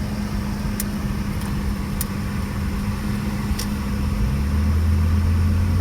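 A six-cylinder engine in a Japanese import car idles steadily and smoothly with no misfires, a low even hum heard close and alone.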